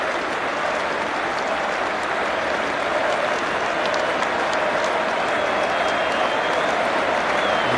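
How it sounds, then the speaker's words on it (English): A cricket crowd applauding at the 2009 Ashes second Test between England and Australia, with dense, steady clapping from a large stadium audience that carries on without a break. "He should take all the applause."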